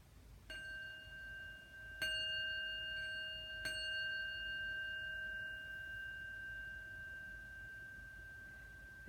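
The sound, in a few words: bell being rung during a calming breathing exercise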